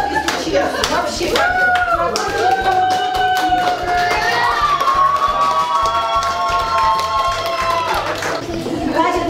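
Steady clapping from a group of guests at a corporate New Year party, with a sung or sustained voice and crowd chatter riding over the applause, continuous and fairly close.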